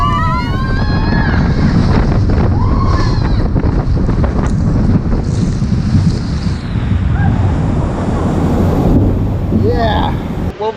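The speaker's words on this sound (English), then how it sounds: "We're gonna hop on this ride and we're about to get soaking" Riders on the Ripsaw Falls log flume water ride at Islands of Adventure, with loud continuous rushing water and wind buffeting the microphone, plus splashing and voices talking throughout.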